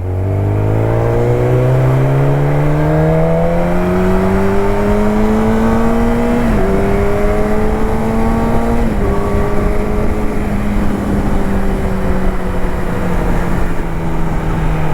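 A borrowed hypersport motorcycle with 26,000 km on it roars loudly while being ridden. The engine climbs steadily in pitch through the gears, with two clear upshifts, and the rider's position stays close throughout.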